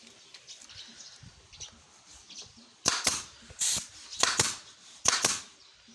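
Nail gun firing to fasten an acrylic panel into a sliding cabinet door, five or so sharp snapping shots in the latter half, close and loud over quiet handling noise.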